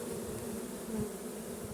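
A steady, continuous buzzing of a honeybee swarm arriving at a hive, a dense insect drone holding level throughout with no voices.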